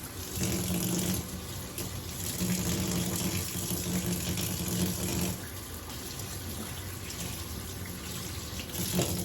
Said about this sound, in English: let me wash my hands before I start digging all in the bag